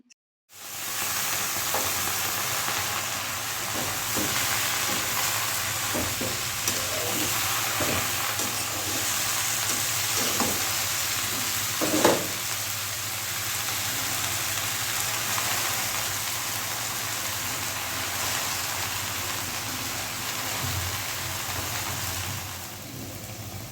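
Mixed vegetables sautéing with spices in a pan, a steady close hiss of frying with occasional stirring taps and scrapes, and no talking.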